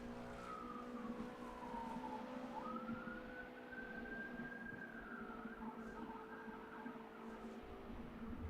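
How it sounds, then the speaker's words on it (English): Distant emergency vehicle siren rising and falling faintly beneath a steady loud car engine drone during the Porsche Carrera Cup race at Le Mans. "I thought I heard sirens"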